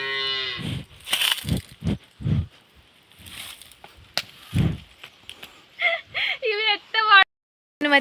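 Cattle led down to a village river moo several times, drawn-out calls near and fairly loud, mixed with short knocks and people talking nearby.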